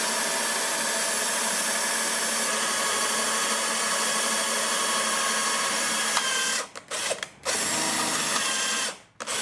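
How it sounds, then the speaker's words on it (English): A power drill bores 1/8 inch holes through the spot welds of a Mercury Sable station wagon's inner rocker panel, a loud continuous high whine for several seconds, then two brief stops and a restart before cutting off. "Then we'll start drilling our 1/8 inch hole here"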